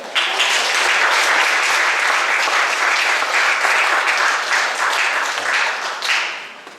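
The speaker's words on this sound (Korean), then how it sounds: "축하의 박수 한번 보내드릴까요?" A church congregation at Sunday worship breaks into celebratory applause, a loud, dense, sustained roar of many hands that holds steady for several seconds before tapering off at the end, with no talking over it.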